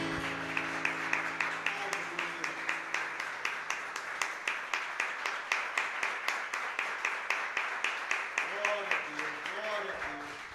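Church congregation applauding during a Sunday morning service, a steady rhythmic round of clapping from many people that continues throughout, with a voice speaking faintly near the end.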